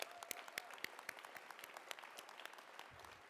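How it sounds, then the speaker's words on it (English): Audience applause at a college all-staff meeting, a soft, distant patter of many hands with a few sharper nearby claps, fairly quiet and continuous. "Let's give them a round of applause."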